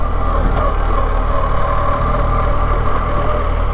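A BMW R1300GS motorcycle engine rides off-pavement on Thomas Mountain Road, a steady, close, loud drone with a deep low rumble that holds without pause throughout.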